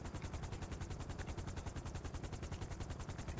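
Rapid automatic gunfire in GTA 5, a continuous loud burst of evenly spaced shots filling the whole stretch without pause.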